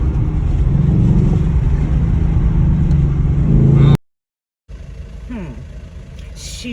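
A Ford Mustang GT 5.0 V8 accelerating hard in Sandton, South Africa, its loud, steady roar cutting off abruptly, followed by a brief silence and a quieter engine note as it resumes.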